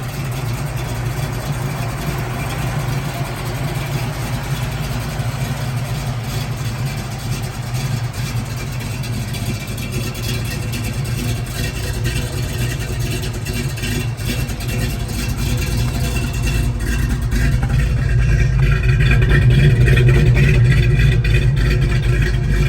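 A 1968 Shelby GT500KR with a four-speed, finished in Raven Black, idles with a deep, steady rumble, then swells louder near the end as the engine is revved. No voices.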